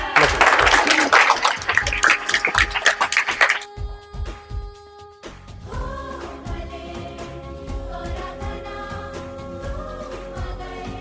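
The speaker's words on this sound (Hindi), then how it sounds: "तालियां" Audience at a children's painting competition prize giving applauding as a girl receives her award, with loud dense clapping for a few seconds, then fading into music with a steady beat.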